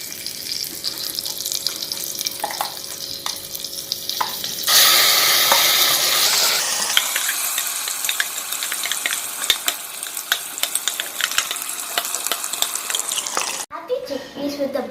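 Chana masala paste sizzling and frying in a vessel while being stirred, with a loud burst of sizzle as it hits the hot pan, then steady crackling and scraping alongside running water and some talk.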